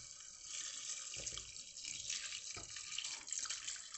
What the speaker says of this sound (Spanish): Cogemos un colador y vamos a añadir caldo.